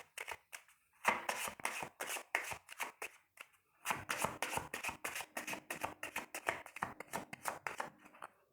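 A Maria Mulambo card deck is shuffled by hand in quick riffling bursts, with a brief pause near the start and another before a long run of rapid crisp flicks, close and dry.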